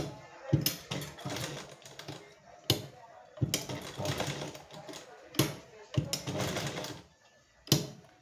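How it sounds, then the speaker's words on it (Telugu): A sewing machine stitches around a cut heart-shaped keyhole design on a sleeve, running in short mechanical bursts with brief pauses between them, moderately close. "ఇప్పుడు దీని చుట్టూ నేను స్టిచ్ చేస్తాను."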